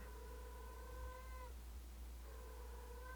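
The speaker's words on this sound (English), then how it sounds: "I'm sorry if you hear my cat." A cat meows twice with long, drawn-out tonal cries separated by a short pause, heard faintly over a steady low hum.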